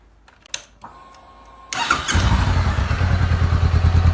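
A Honda CBR500R motorcycle with its standard muffler is started up after a few faint clicks, then settles into a fairly quiet, steady close-range idle.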